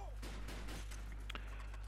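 Rapid gunfire rattles through a Gun Game first-person shooter match, dense bursts of shots over a steady low hum of game audio, loud and continuous without a break.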